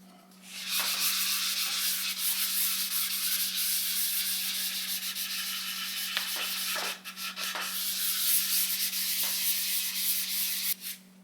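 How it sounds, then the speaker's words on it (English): An 800 to 2500 grit wet sanding pad rubs across a Telecaster guitar body in long, steady, close strokes, a continuous loud scrubbing hiss broken by brief pauses, under a low steady hum. "We started with an 800 grit wet sanding pad and slowly worked our way up to 2500."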